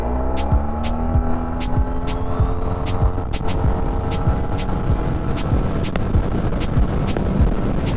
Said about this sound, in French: Le petit scoot là.